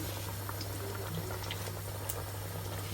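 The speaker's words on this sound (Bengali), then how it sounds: "ফিশ ফ্রাই হচ্ছে আর এদিকে আমি কারিটাও বসে দিচ্ছি আলুও দিয়েছি কিছু" Fish frying in a home kitchen while a potato curry cooks nearby, a soft continuous bubbling hiss with faint scattered pops, close but quiet, no talking.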